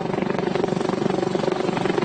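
An emergency rescue helicopter flies nearby, its rotor beating in a steady, loud, rapid pulse with a constant engine drone and no voices.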